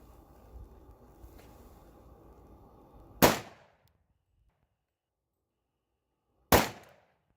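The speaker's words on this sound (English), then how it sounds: "Test gun's going to be the M&P shield and 40 cal, and Underwood 135 grain jacket hollow point at 10 feet." Two sharp, loud .40 S&W pistol shots from an M&P Shield firing Underwood 135 grain jacketed hollow points at 10 feet, spaced about three seconds apart, the first following a low steady background rumble and each ending in quick decay.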